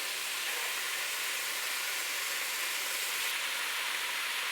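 Chickpeas roasting with salt in a hot pan for a Turkish chickpea stew, giving a steady, even sizzle and hiss that stays constant throughout with no voices.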